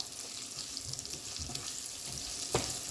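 Pepper steak meat stir-frying in a pan, a steady close sizzle with light scraping stirs and a brief sharper clatter near the end, no talking.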